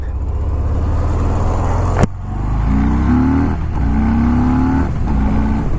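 A 2019 Harley-Davidson Fat Bob 114 motorcycle accelerating hard, a loud close engine roar rising in pitch through several gear changes with brief dips between them.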